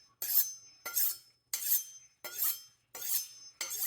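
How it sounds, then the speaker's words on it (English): A knife is drawn across a sharpener in six evenly spaced, bright scraping strokes, each a crisp metallic swipe heard up close with no talking. "knife sharpening ASMR"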